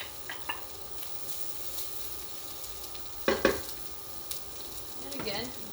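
Seeds frying in a shallow, lightly oiled pan for a leftover fry-up, a steady close sizzle broken by a few loud utensil scrapes and clatters against the pan.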